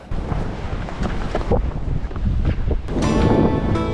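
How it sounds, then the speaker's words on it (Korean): Waves of the East Sea breaking on the Korean coast near Bongpo Beach, a loud rushing surf with heavy wind buffeting the microphone, swelling stronger toward the end. "파도 파도 보십시오 이게 동해바다입니다"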